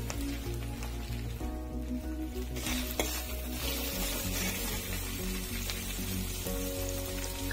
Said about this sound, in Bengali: এখন আদা রসুনটা এখন নেড়ে চেড়ে নিব, কাঁচা গন্ধটা যাওয়া অব্দি।